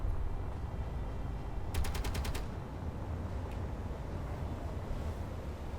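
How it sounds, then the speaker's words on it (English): Rapid burst of video game turret gunfire, about a half-second string of sharp evenly spaced shots over a steady low rumble, followed by a single fainter shot moments later. "Gun shooting. That's a lot of turrets."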